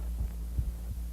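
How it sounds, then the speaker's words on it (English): A human heartbeat throbs in low, muffled double thumps, three beats in quick steady rhythm over a constant deep hum, with no voices. "The rhythm of the heart is the first and most important rhythm of human life."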